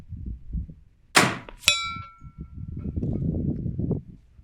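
A bullet strikes a steel target at a long-range rifle shoot: a sharp distant impact followed by a bright metallic clang and ringing ding that fades quickly over low background rumble.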